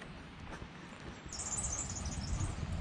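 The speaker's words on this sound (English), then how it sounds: "Listen to the birds." Faint birdsong at sunrise chirps high and thin over quiet lakeside ambience at Lake Conjola, growing busier partway through.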